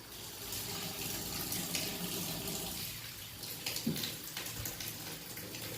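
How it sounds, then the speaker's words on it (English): A kitchen tap turned on low runs in a thin, steady stream with light splashing into a container, close and unbroken, no one speaking. "Now that all the water is drained, I'll go ahead and turn the water back on low."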